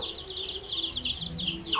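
Chickens clucking and chirping nearby on a farm, a steady run of short high calls over low background noise, with a brief louder cry at the end.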